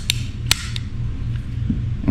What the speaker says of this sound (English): We're going to cock the hammer back,